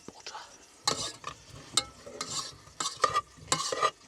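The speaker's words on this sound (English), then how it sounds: "Oh, I can hear it sizzling already, look." Soft, close sizzling of butter with roast potatoes in a campervan, with a few clinks and stirring scrapes, quiet bursts of frying sound coming in short irregular waves.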